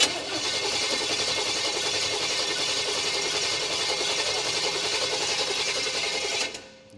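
A Chevy 350 crate engine cranking over without starting in a 1951 Chevy 3100 farm truck, a fast, steady, loud whirring churn that runs several seconds and then stops.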